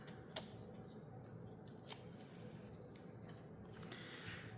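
Scissors snip through paper while a junk journal is trimmed at a craft table, giving soft close rasping cuts with a couple of sharper snips, alone and without talk.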